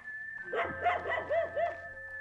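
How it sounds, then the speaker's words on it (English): A dog in the Mount and Blade Warband video game barks in a quick series of four or five yaps, moderately distant, over a steady ambient hum. "I'm hearing a dog barking and I can't help but feel like he's in on this."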